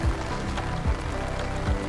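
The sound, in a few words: rain falling on farm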